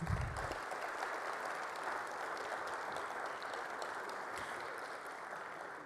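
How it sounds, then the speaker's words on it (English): Sustained applause from a crowd at a WTO business forum, steady and moderately loud throughout with no talking, opening with a brief low thump. "can we give them another round of applause, please?"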